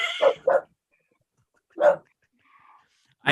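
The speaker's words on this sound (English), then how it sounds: "now my dog's barking" A dog indoors barks in short, sharp bursts: two quick barks, then a pause, another loud bark, a faint whine, and one more bark at the end, with silence between.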